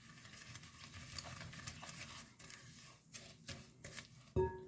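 Sugar and one egg being stirred together in a mixing bowl for a pumpkin pie, a soft, steady scraping swirl close up with a brief clink near the end.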